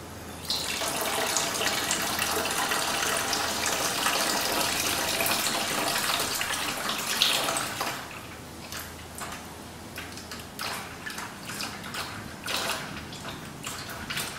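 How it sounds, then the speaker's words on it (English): Water running from a tap into a bucket holding biodiesel for a wash, a steady rushing flow for about eight seconds that then thins to lighter splashing and trickling, with no speech. "So we've got biodiesel and water in this bucket right now, and we're ready for our second wash."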